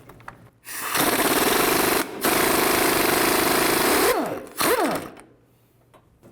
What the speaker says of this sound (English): Now I'm gonna use a 21mm wrench on the bolt and 21mm socket. Take the nut off.